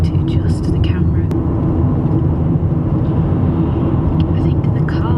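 Inside a car while driving, a steady low engine and road drone fills the cabin throughout, even and unbroken, with faint higher rustles above it.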